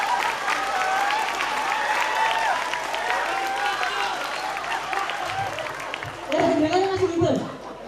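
An audience at a breakdance performance claps continuously for several seconds, close and fairly loud, with voices mixed in before the applause fades out.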